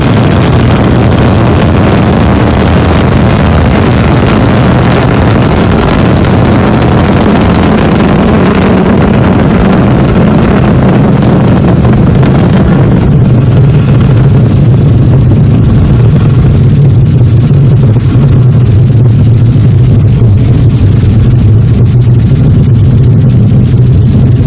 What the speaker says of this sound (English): Roar of our engines, a lot of fire, and with BepiColombo on board